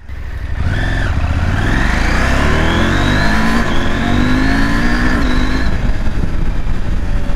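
Husqvarna Norden 901 motorcycle ridden off-road, its engine loud and close, revving up through rising pitch sweeps and shifting gears continuously for the whole stretch.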